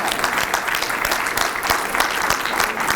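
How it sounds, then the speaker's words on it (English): Steady applause from a crowd for a symposium panel, dense clapping throughout without a break, fairly close and loud. "Let's give them another round of applause"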